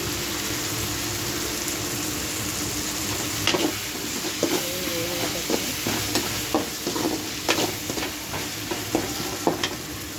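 Curry leaves crackle in the hot oil of a fish curry pan. A steady sizzle runs throughout, and from about the midpoint it is dotted with brief pops and stirring clinks. Close and fairly quiet.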